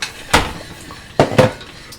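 A metal spoon clinks and scrapes against a dish while stirring chilaquiles sauce, a few distinct sharp taps spaced apart, close by with no talk.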